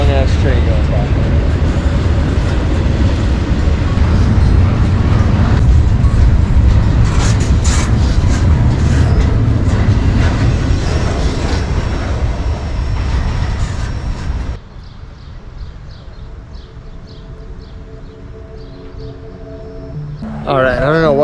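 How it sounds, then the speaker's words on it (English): A long freight train rumbles past close by, a loud, heavy roar with rhythmic clatter of wheels on rail joints, then drops to a quieter rolling rumble with squeals before a brief sharp noise at the very end. "a long ass train going by."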